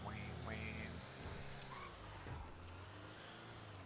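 An electric sports car resembling a Lotus, driven in GTA 5, gives a steady low hum and drone throughout, with a brief squealing tone early on and a few faint clicks and knocks mixed in.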